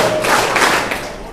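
A group of people claps together on command, a few loud, close claps landing in quick rhythm in a hall, then fading out.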